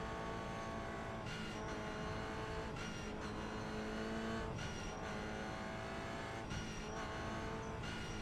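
A Toyota GR86 race car in the iRacing video game runs tire prep before the green flag, its engine droning continuously while the pitch rises and dips in a repeating rhythm as the car weaves, with faint tire scrub mixed in.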